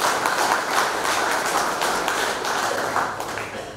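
A crowd applauds a football team at a Premier League awards presentation, giving steady, dense clapping from many hands that fills the hall at a fairly loud level throughout.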